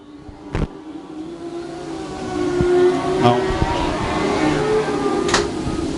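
Race cars on a dirt speedway running E Mods, Lightning Sprints and Mod Lites, a continuous engine roar passing by at a distance with rising and falling drones and occasional sharp bangs, no clear voice over it.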